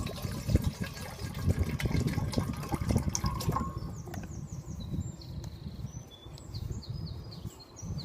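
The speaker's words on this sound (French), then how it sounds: "Je vais mettre l'eau." Water poured outdoors into a camping cup beside a lake, a steady liquid trickle in the foreground with faint birdsong in the background.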